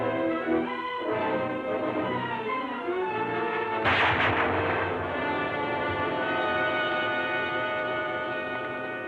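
A single sharp gunshot cracks out during a fox hunt in open country, loud and close, followed by a lingering rumble as the report dies away.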